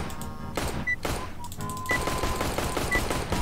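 Shotgun fire in the CS:GO Danger Zone battle royale mode: several loud, dense blasts in quick succession over busy game sound, with no clear talk.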